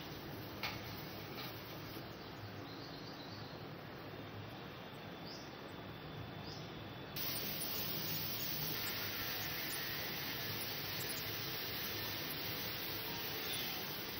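Potatoes par-boiling in water in a pot on a gas stove over a medium flame: a steady, close hiss of bubbling with faint scattered ticks, continuous throughout and slightly louder in the second half, with no talking.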